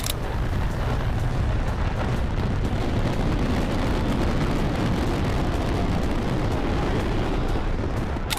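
A dense, continuous roar of crackling bursts and booming explosions, loud and sustained without a break, like a big fireworks barrage.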